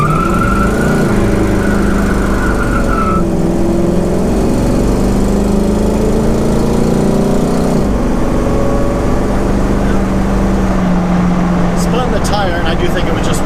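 A 1934 Ford coupe roars loudly up through the gears, engine pitch climbing and dropping at each shift, with a brief squeal near the start and a sustained close, raw exhaust note throughout.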